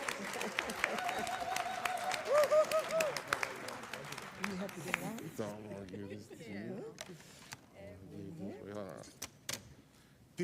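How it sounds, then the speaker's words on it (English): Applause from the audience at a press conference for a youth talent program kick-off, a broad wash of clapping running through the whole stretch, with voices and crowd chatter mixed in and a few sharper claps toward the end. "Give a round of applause, everybody,"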